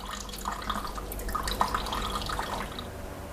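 Tap water runs steadily over palm fruit pulp being rinsed for Thai palm cake, a soft continuous splashing and trickling with small drips, fairly quiet and close.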